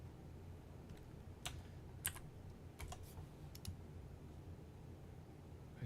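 Someone types on a computer keyboard while programming, a handful of quiet, scattered keystrokes and clicks in short clusters over a low room hum.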